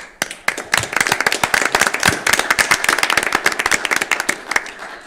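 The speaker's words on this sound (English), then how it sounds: "I want to pause and give a round of applause" A small group claps at a village board of trustees meeting, a quick burst of hand claps that rises and keeps going steadily, close and fairly loud.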